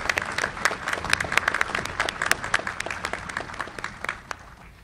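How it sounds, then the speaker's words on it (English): A Navy change of command audience applauds Debbie with dense, sustained clapping that holds steady and loud throughout, with no talk over it. "How about a big round of applause for Debbie?"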